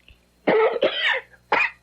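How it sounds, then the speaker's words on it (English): Two quick coughs close together, followed by a third sharp cough after a short pause, close and fairly loud. "cough."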